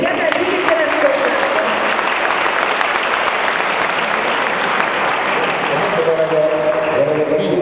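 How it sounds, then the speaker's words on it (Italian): A crowd applauds steadily at a volleyball team presentation in Lamezia Terme, loud and continuous, with a voice audible faintly underneath near the start and end. "Un applauso a lui che ha dimenticato e a lui che ce l'ha ascoltato"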